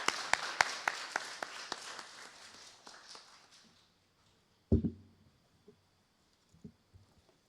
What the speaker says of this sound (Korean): 우리 임석순 목사님 기대하는 마음으로 큰 박수로 맞이하겠습니다.